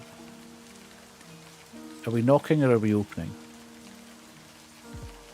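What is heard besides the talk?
rain falling in the video game Livber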